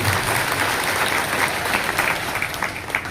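Loud, sustained audience clapping at a cow-shelter association meeting in Bikaner, a dense continuous burst of many hands from a close crowd throughout.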